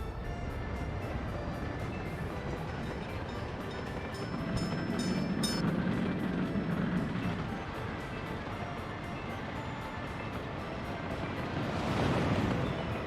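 Train running in the Workers & Resources: Soviet Republic video game, a steady rolling rumble with faint clickety-clack that swells twice, continuous with no talk.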